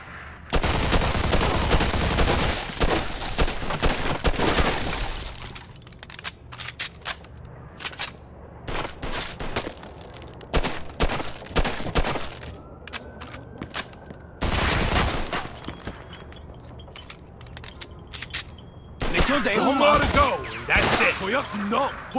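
A shootout in the Mafia II video game: loud bursts of automatic gunfire and rapid single shots come in waves, with short lulls between volleys and a final heavy barrage.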